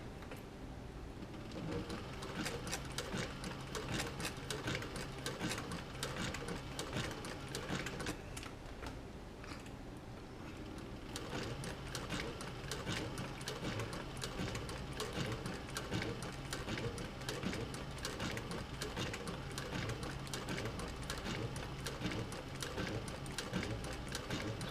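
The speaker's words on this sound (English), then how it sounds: "we're going to sew the strap" A sewing machine stitches a 1/8-inch seam along a leather strap for a camera or utility bag, a steady mechanical chatter that runs almost continuously with a brief pause midway.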